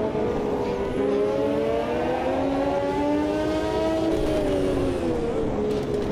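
A classic Formula 1 race car in the Automobilista 2 sim races on with a damaged engine, a steady, loud, whining drone with rising and falling pitch across several seconds, no talking.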